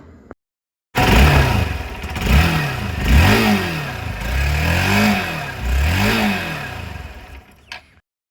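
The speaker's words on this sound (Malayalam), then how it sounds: "നമുക്കിതിൻ്റെ എക്സോസ്റ്റ് സൗണ്ട് ഒന്ന് നോക്കാം." A Hero Xpulse 200 4V motorcycle's exhaust note rises and falls through four or five throttle blips, close and loud, the single-cylinder engine settling to idle between revs before cutting off near the end.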